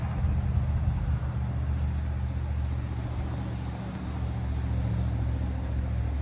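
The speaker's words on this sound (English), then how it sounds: "Gosh, that's a loud truck." A loud truck passing by outside, heard from indoors as a steady, heavy, low engine rumble that fills the whole stretch without letting up.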